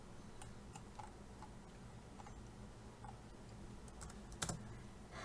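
Computer keyboard keys tap quietly over a low background hum while drafting in AutoCAD, with a few scattered clicks and a slightly louder keystroke near the end, like a press of the Enter key.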